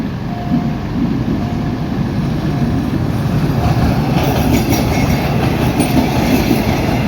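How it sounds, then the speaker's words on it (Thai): A train rumbles steadily past at close range as it arrives at Uthumphon Phisai station in Thailand, its low, continuous roar and faint wheel rattle filling the whole stretch with no voices. "รถไฟอุดมพรพิสัยนะครับ กำลังเข้าสถานีอุดมพรพิสัยนะครับ"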